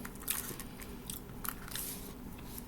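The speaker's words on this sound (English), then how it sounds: "I don't know if you can hear the crunch or not on camera" Close, crisp crunching bites into fried chicken with crackly texture, several quick bursts over a steady low background, no talking.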